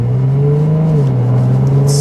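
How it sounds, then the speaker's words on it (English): Steady, loud drone of a Ferrari 296 in performance sport mode on the Autobahn, a deep exhaust note holding an even pitch throughout with a slight dip midway, sounding from inside the car with no talk. "So we have a little bit more exhaust noise and aggressiveness."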